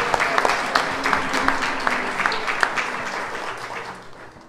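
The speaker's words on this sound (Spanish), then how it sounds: "Vamos a darle un aplauso a Monseñor Mario también" A church congregation at a Virgen del Cobre feast-day celebration applauds for Monseñor Mario, a close, dense burst of clapping that thins and fades over a few seconds.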